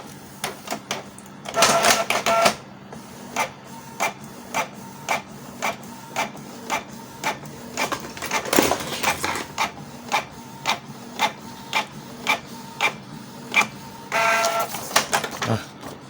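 A Canon IP2770 inkjet printer prints a table, giving a steady series of sharp mechanical clicks and rasps from the print head moving back and forth, with louder feeding bursts near the start, middle and end.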